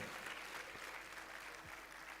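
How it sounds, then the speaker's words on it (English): Audience applause at a valedictory session for a retiring official, continuous fairly faint clapping from a crowd, steady over the short span without voices. "Please, another round of applause"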